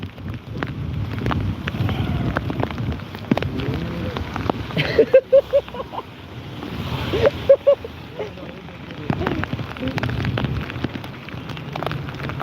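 Heavy cyclone rain pours outdoors, a steady rushing wash mixed with wind buffeting the microphone, while two people talk over it throughout.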